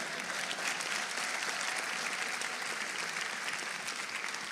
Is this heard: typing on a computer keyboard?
no